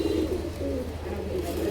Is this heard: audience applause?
no